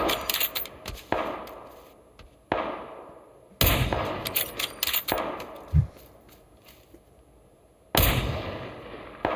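Sharp, loud gunshots from a first-person shooter video game ring out in separate bursts, several single cracks and short volleys with abrupt silences between them, each shot ending in a brief metallic ring.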